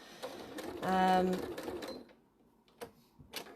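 A sewing machine fitted with a walking foot quilts through a batik quilt in one brief, steady whirring run, between quiet handling sounds and a person talking.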